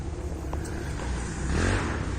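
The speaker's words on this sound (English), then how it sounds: "you can hear the ATVs going off" A steady low drone from ATV engines with a rising rev toward the end, sounding distant and muffled near a forest campground, with no voices.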